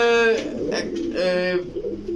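Several army pigeons, male and female, coo close by in overlapping, throaty calls, with a few chirpy notes mixed in.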